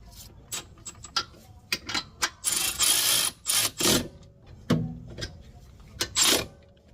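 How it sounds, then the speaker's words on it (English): A wrench tightens a rear brake caliper bolt to torque spec on a Ford Edge / Lincoln MKX, giving close, irregular mechanical clicks and short ratcheting bursts with no talk. "we'll put the bolt back in here, and we'll torque this to spec"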